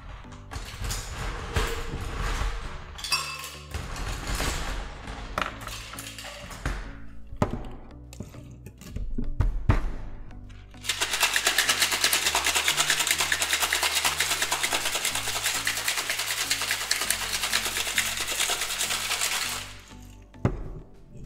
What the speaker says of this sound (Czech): Vše dohromady vyšejkujeme s ledem.